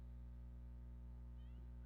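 A cat gives a short, faint meow late in the clip over a loud steady electrical hum in a quiet indoor room.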